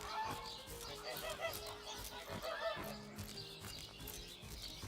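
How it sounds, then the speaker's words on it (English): Honking geese in the fantasy role-playing game Divinity: Original Sin, a run of calls and chirps over a continuous layer of game ambience and music, with a voice talking throughout. "they're pretty realistic sounding geese."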